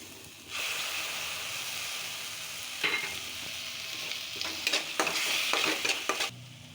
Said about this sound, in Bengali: আদা রসুন পেস্ট দিলাম। এটা একটু ভেজে নেব, গন্ধটা কাটিয়ে নেব ভেজে।